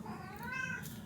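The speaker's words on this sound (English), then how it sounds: "sorry, the cat was doing something weird." A domestic cat meows once with a drawn-out, wavering cry, close and fairly clear over a low background hum, ending with a brief sharp noise.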